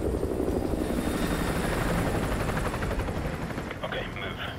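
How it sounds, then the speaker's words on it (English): Enemy helicopter patrolling overhead in the video game Call of Duty: Modern Warfare 2, a steady, loud rotor thump and engine drone throughout, with faint radio-style talk mixed in. "Enemy helo patrolling the perimeter."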